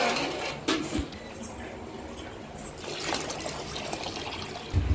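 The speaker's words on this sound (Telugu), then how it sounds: "వాటర్ పోయాలి. వాటర్ పోసేస్తే బియ్యం పోసుకుంటే సరిపోతుంది." Water poured into a cooking pot for rice pulao, heard as a steady trickling splash at moderate level throughout, with a few louder knocks of the vessel and a short thump at the end.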